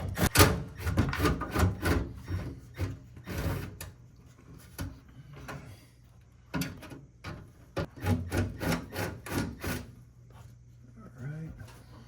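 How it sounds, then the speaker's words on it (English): Screws are worked out of the cover on a First Co. ceiling heat coil unit, giving rapid scraping, rubbing bursts and knocks close by, with people talking over parts of it. "Two screws right here that need to be removed."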